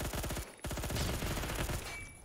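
Colt SMG 633 submachine gun firing in the Roblox game Phantom Forces, rapid bursts of automatic fire with a brief pause before a longer stream, loud and close.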